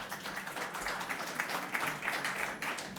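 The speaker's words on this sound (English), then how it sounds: "So please give them a round of applause." Audience applause for a conference panel on financial supermarkets, a dense, steady wash of many hands clapping close by, sustained throughout without breaks.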